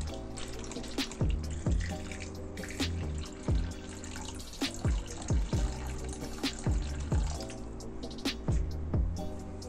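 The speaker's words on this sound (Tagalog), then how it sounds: "Tapos, papaapawin ko ng tubig." Water poured into a springtail culture container to flood it, heard as steady close running and splashing with repeated drip-like plops throughout, no talk.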